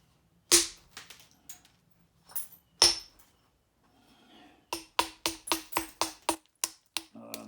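Sharp, close hammer strikes knocking a rock to thin an oddly shaped stone: a few spaced cracks, then a quicker run of about ten ringing blows near the end, each crisp and loud with short decay, no talk.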